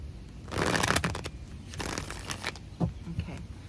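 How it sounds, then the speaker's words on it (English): Tarot cards being shuffled by hand, with two or three bursts of riffling and slapping close up and short pauses between them. "One more shuffle."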